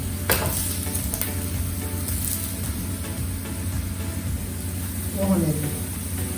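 Carrots (gajar) laid on a grill tawa sizzle steadily at close range, a continuous frying hiss with occasional stirring clatter, while a person talks over it.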